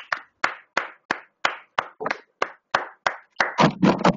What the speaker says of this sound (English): Clap for this beautiful person.